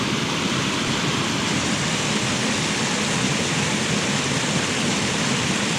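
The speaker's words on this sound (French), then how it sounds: "c'est une cascade" A small waterfall in a Jura stream roars as steady, dense broadband rushing water, close and loud, unchanging throughout with no voices.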